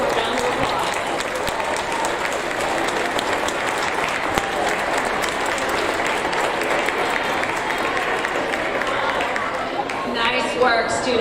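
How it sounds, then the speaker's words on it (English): Steady, sustained applause from a large audience of families at a sixth-grade school awards ceremony, dense and even for about eleven seconds, with crowd murmur mixed in and a voice rising near the end. "Let's give them a round of applause"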